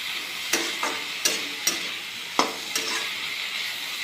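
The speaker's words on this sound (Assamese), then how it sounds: "কম জুইত ধুনীয়াকৈ ভাজি ল'ব।" A mixture for a kalal recipe sizzles in a pan over low heat, with several sharp scraping strokes of a spatula stirring it at irregular intervals against steady frying hiss.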